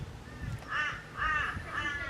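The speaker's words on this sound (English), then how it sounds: "The crows got into all of our shit." Crows caw outdoors at a campsite, three harsh calls in a steady rhythm, fairly faint and at a moderate distance over low background noise.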